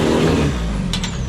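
An engine revs steadily and loudly throughout, a medium vehicle labouring while pulling an abandoned BMW 850CSi Alpina V12 toward a trailer, with a brief higher whine near the end.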